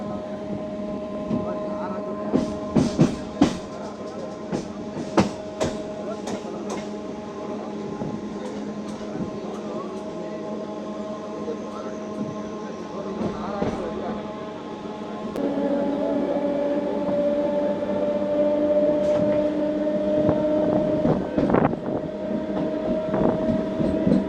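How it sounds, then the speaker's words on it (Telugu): MEMU passenger train running on rails between Hindupur and Bengaluru, a steady rumbling drone with scattered clacks and knocks, growing louder partway through, with voices talking over it. "మహాకాళి దుర్గా నుంచి మన ట్రైన్ బయలుదేరింది."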